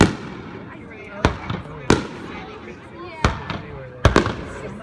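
Fireworks boom in separate sharp bursts over a boat parade off Balboa Pier, five or six loud reports at irregular intervals over a steady crowd murmur.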